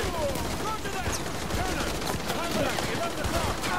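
Gunfire in the Call of Duty Modern Warfare 2 campaign, a busy stretch of rapid shots and bursts at a steady volume, with speech heard alongside.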